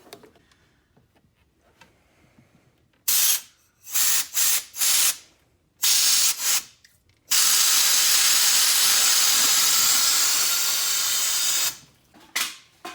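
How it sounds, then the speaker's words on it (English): Compressed air blown through a car heater core, quiet at first, then several sharp hissing bursts followed by a long, loud continuous rush of air and spray, close and harsh, with a few final short blasts. "So we'll just pick one of them and put air in it and see what happens."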